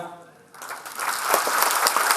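Audience applause erupts at an R. D. Burman award night in an auditorium, starting after a brief quieter moment and building into sustained, loud clapping from a large crowd.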